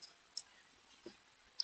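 Sharp mouse clicks while building an automation workflow in the N8N web editor: three quiet, isolated taps spaced apart over a faint hiss, with no talking.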